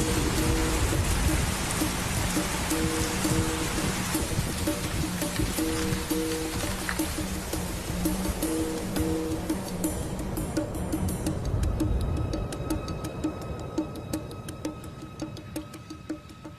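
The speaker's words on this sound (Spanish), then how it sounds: "Y se suceden los intensos aguaceros" Heavy wet-season rain in Australia pours down in a dense, continuous hiss, steady and enveloping, with faint low rumbles underneath, tapering a little toward the end.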